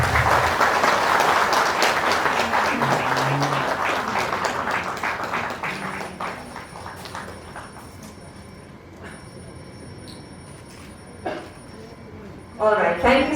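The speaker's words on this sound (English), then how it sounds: "Ladies and gentlemen, a big round of applause." Applause from an audience at a Foundation Day ceremony of the Manipur State Commission for Scheduled Tribes in Manipur. The clapping is loud and dense at first, then thins and fades over several seconds, ending in a few scattered claps and background room noise.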